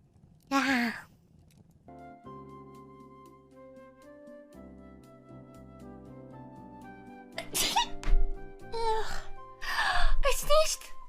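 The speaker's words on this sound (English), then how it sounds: "I sneezed." A person sneezes sharply at the start, then after a stretch of quiet background music come breathy gasps and sighs that build into a couple more sneeze-like bursts.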